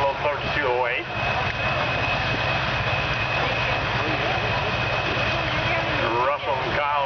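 An Oliver 2255 tractor with a Caterpillar 3208 engine running at high RPM, a steady loud drone that holds throughout, with someone talking over it.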